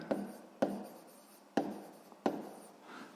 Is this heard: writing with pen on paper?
yes